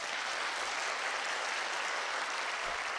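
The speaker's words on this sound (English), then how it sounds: "the chapel was swept up in a huge round of applause that echoed off the high walls" Large crowd applauding in a chapel with high walls, a dense, even wash of clapping that reverberates and holds steady throughout.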